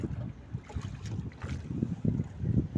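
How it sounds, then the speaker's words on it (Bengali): A boat travels along a wide river, with a steady low rumble of engine and water under gusts of wind buffeting the microphone, rising and falling throughout. "নৌকা দিয়ে জার্নি করা হচ্ছে, সবাই চলে আসবেন।"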